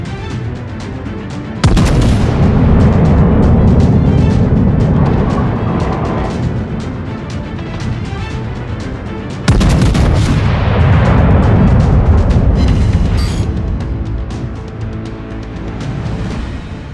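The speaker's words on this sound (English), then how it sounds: "fire on the enemy warship" Heavy naval guns boom from a warship firing on an enemy vessel in the World of Warships PC game. Two loud salvos roll out several seconds apart, each followed by a long rumbling tail over steady background noise.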